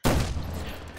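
A sniper rifle shot in Medal of Honor Warfighter, one loud, sharp blast with a booming tail that rings out and slowly fades, with no other sounds over it.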